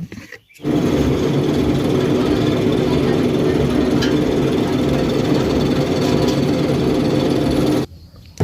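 A grinding machine processes roasted peanuts with a loud, steady motor drone that starts abruptly, runs unbroken for about seven seconds, then cuts off.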